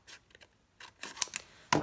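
Scissors snip through paper scraps being cut for a craft rosette, a few quick, close cuts, sharper and louder toward the end, with no talking.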